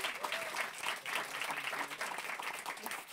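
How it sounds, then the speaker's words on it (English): A live audience at an Indigenous Liberation Day festival event gives a steady round of applause, dense clapping continuing evenly for the whole stretch at moderate loudness. "How about another round of applause?"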